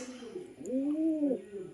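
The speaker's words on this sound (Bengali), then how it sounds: "কালদমা পায়রা" A kaldum pigeon coos once, a soft close rolling call lasting about a second, with faint background noise and no other voices.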